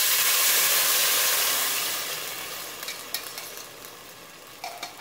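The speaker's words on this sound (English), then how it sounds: "I'm going to stir this up a little bit more" Mexican yellow rice stirred in a pan, a steady hissing sizzle that fades over a few seconds into quieter scraping and clinks, with no voices.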